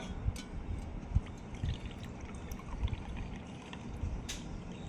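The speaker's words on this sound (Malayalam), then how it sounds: "ഇനി ഇതിനകത്ത് കുറച്ച് വെള്ളം ഒഴിച്ചു കൊടുക്കാം" Water poured into a small container for a homemade salt water battery, a soft close trickle with intermittent drips and splashes, faint and steady with no talk.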